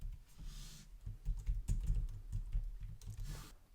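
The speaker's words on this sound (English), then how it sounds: "So type that in, get your password in there." Fingers type a password on a computer keyboard at a steady, moderately quick pace, the clicks soft and close, with no one talking.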